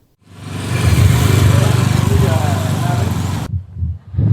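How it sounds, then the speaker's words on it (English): A motorbike engine drones loudly nearby on a street in Juba, South Sudan, for a few seconds, then cuts off abruptly, leaving brief low rumbles and quiet. "You're barely hearing the voice of motorbikes and few vehicles moving around"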